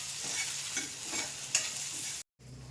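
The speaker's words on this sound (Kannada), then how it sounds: "ಒಂದು ಕಡೆ ಬೆಂಡೆಕಾಯಿ ಕೂಡ ಫ್ರೈ ಆಗ್ತಾಯಿದೆ" Okra frying in a pan as it is stirred, a steady close sizzle with soft scraping stir sounds, briefly cutting out near the end before resuming.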